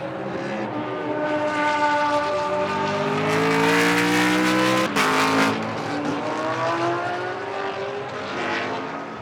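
BMW GT race cars lap the Moscow circuit in Blancpain Sprint Series practice, engines rising and falling through gear changes as one car passes close, loud and sustained, with other cars audible behind.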